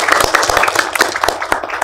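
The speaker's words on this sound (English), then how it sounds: "So a big round of applause to Aryana." Audience at a press meet for the Indian Film Festival of Melbourne breaks into close, brisk applause, dense overlapping hand claps with a steady, fairly loud rhythm throughout.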